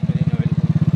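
A motorcycle engine idles on a rural road, a steady rapid chugging pulse about fifteen beats per second, close and moderately loud, with a faint voice in the background.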